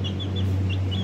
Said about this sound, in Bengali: দেখেন, মুরগির বাচ্চা কিনছি পালার জন্য